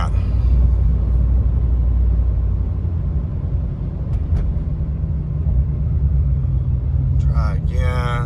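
A lifted Ram 1500 Hemi pickup with a turbo and six-speed rumbles loudly and steadily while driving, with a deep low engine drone and road roar throughout. Brief higher tones cut in near the end.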